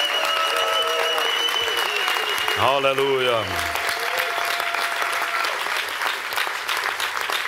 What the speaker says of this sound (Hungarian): Adjunk az Úrnak egy nagy-nagy tapsot